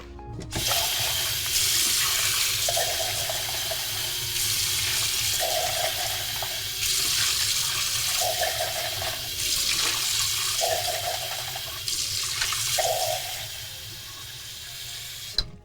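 A sink tap runs steadily into a cup indoors in a studio, a constant loud water hiss with slight rhythmic surges and no talking.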